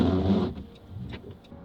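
Car driving on a road, a broad rumbling hum that is loudest at first and then settles into a softer, steady cabin drone with a few faint clicks, no talking.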